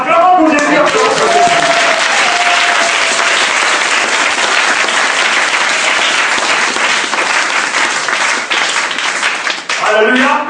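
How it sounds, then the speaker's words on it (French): A church congregation bursts into sustained loud applause for Jesus, dense clapping filling the room for about ten seconds, with a voice heard briefly at the start and end. "Acclamons pour Jésus."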